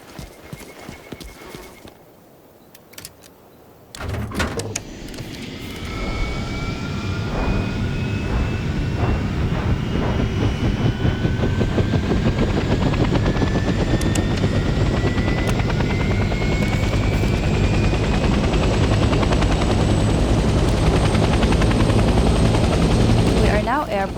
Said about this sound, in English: Let's start by getting in the pilot seat and turning the engine on.